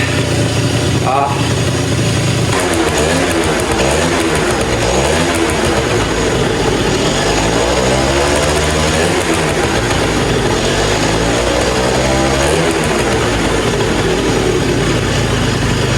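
The engine of a 2005 Yamaha Zuma scooter with a big bore kit runs on a dyno, a loud, close, continuous drone with rising and falling revs, while someone talks over it.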